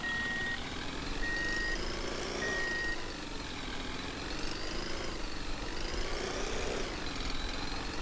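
A truck drives back in the game ContractVille, its engine droning steadily with rising and falling pitch as it works, while a few evenly spaced reversing beeps sound early on over the continuous motor hum.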